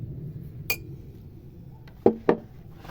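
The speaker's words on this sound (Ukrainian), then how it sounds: "От у мене трьохлітрова банка, і на неї я кладу 3 столові ложки солі." Light glassy clinks ring out: one sharp tap, then a pause, then two quick clinks close together, like a spoon knocking against a three-litre glass jar while spooning in salt.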